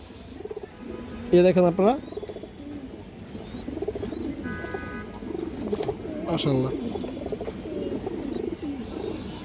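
Pigeons from a collection of coloured pigeons coo in soft, low, rolling bursts close by, mostly beneath someone talking steadily in Bengali.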